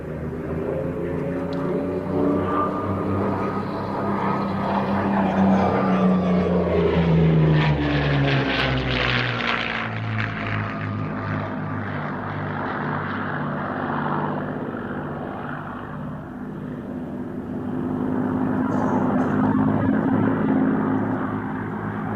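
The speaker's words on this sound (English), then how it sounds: "Spanish-built Rolls-Royce Merlin engine version of the Messerschmitt Bf-109, is amongst the aircraft that will be in our display this weekend, going through their paces" A Spanish-built Messerschmitt Bf-109 with a Rolls-Royce Merlin engine flies a display practice, its propeller engine droning loudly as it passes, rising and falling in pitch with a steady roar throughout.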